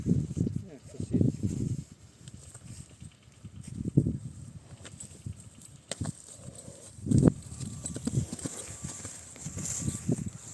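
Horse hooves clop unevenly at close range, mixed with rustling and shuffling; people talk intermittently over the sound.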